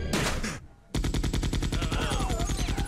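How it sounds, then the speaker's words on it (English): Gunfire in Resident Evil 2 starts with a short burst, then after a brief gap comes a close, loud, rapid string of evenly spaced shots lasting about two seconds. "Those are convincing gunshots"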